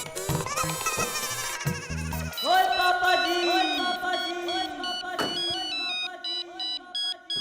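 A landline telephone rings out while a call is being placed, a steady repeating electronic ring tone with short regular pauses, loud and close, preceded by a brief burst of music.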